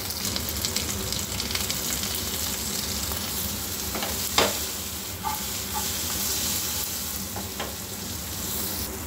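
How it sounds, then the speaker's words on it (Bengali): Onion and capsicum sauté with a little salt in a pan, a continuous crackling sizzle punctuated by a few sharp stirring knocks and scrapes. "দিয়ে হালকা করে একটুখানি সতে করে নেব, মানে হালকা করে নাড়াচাড়া করে নেব অল্প একটু লবণ দিয়ে"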